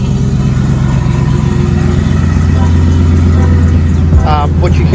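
A Trailblazer SS engine idles steadily up close with a faint whirring, chattering belt noise running through the low rumble, and a voice briefly speaks near the end.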